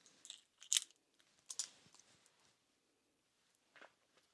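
Tic Tacs from a Canadian IMP ration crunched between the teeth, a few sharp close bursts of crunching followed by quieter chewing and a final faint crunch, with no talking.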